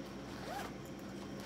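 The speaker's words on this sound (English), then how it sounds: "it has the zipper on the side here" A zipper on the side of a Bolzano handbag is pulled in one quick, close zip, faint and brief against quiet room noise.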